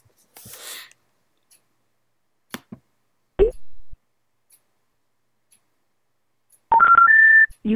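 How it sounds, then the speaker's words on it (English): Touch-tone telephone being dialed manually, a few scattered clicks and taps followed by a short run of clear DTMF tones near the end, close and isolated in silence. "So in order to show some of the dials here, I'm going to just do a manual dial."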